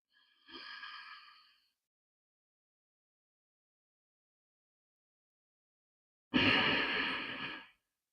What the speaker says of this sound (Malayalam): ഇതാണ് ഉജ്ജയ് ബ്രീതിങ് ആ സൗണ്ട് കേൾപ്പിച്ചുകൊണ്ട്